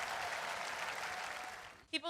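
Steady applause from a congregation at a church service, a continuous wash of clapping that fades out, followed by a brief voice at the end.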